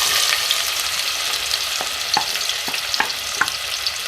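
Onions frying in oil give a steady, bright sizzle throughout, broken by several sharp clicks of a utensil stirring the pan.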